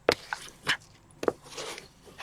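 Dogs in a home lounge give a few faint, scattered yips and whimpers, spaced apart and quiet against low room noise.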